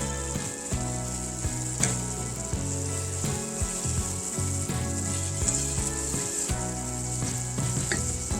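A hamburger mixture with garlic sizzles and fries steadily in a pan, a constant hiss punctuated by periodic scraping clicks of stirring, close and moderately quiet with no talking.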